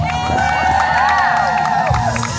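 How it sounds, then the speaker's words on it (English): A large crowd at a real-life jousting event cheers and shouts continuously, a dense, loud roar of voices with whoops rising over it throughout. "we are going to have to work on that cheering"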